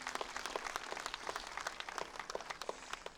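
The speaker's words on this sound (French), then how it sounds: "Je vous demande là aussi de les applaudir" Scattered applause from an audience at a French municipal election list presentation evening, faint and distant, with individual claps standing out irregularly.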